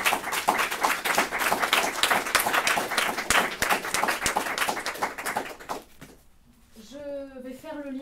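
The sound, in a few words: audience applauding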